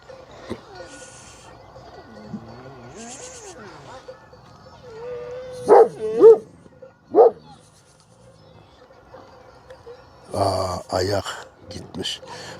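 A dog barks a few times in short bursts, with a quiet stretch between, alongside some background noise and brief louder sounds near the end.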